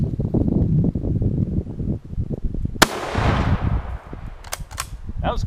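A single sharp 8mm Mauser rifle shot cracks out partway through, loud and close, amid wind noise outdoors, followed by a few faint clicks.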